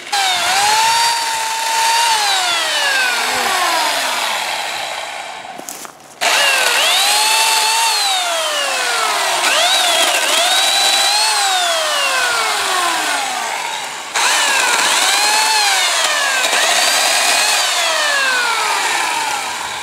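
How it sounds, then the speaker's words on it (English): A loud small electric chainsaw revs and whines continuously, pitch sweeping up and down as it cuts through tree limbs, with one brief pause. "He's using an electric chainsaw on the limbs"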